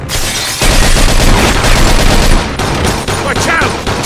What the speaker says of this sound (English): Watch out! They shoot from up top!